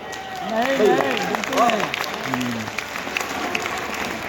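A crowd at a comedy show during the Siddharth Nagar Mahotsav claps, with a performer's voice and some cheering rising over the clapping early on. The clapping then settles into a steady patter.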